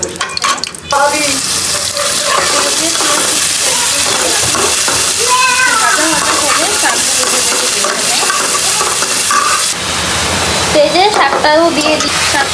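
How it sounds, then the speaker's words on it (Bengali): Greens with chopped onion and green chilli frying in a pan, a steady sizzle under repeated scraping stirs that stay close and continuous throughout. "এখন একটু ভাজা ভাজা করে তুলে ফেলবো।"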